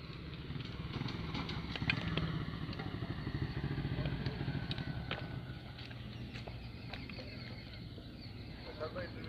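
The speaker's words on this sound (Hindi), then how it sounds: "अभी भी एक मोटरसाइकिल को रोका जा रहा है।" A motorcycle engine rumbles steadily at a roadside traffic police checkpoint, quiet and somewhat distant, with scattered clatter and people talking in the background.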